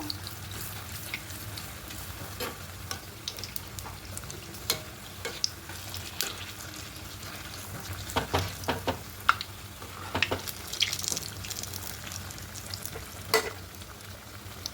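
Palm fruit malpua batter fries steadily in hot oil, a continuous close sizzle with scattered crackles and pops, no voices.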